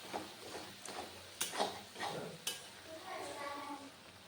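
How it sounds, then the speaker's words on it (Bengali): Soybean being mixed with bottle gourd, soft faint scraping and squelching strokes with a few sharp clicks of a utensil against the pot. "এবার খুব সুন্দর করে মেখে নেব এটা।"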